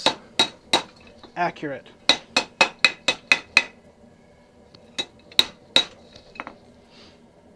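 Blacksmith hammering metal in a backyard forge: sharp ringing hammer blows in quick bursts, a fast run of about six strikes, then a few spaced single blows, with a brief spoken word among them.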